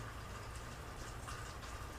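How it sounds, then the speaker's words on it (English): Rainwater drips and trickles from a roof gutter down through a pipe, making a faint, continuous watery patter with a low background hum. "That is the sound of rain dripping from the gutter on the roof down through some kind of pipe"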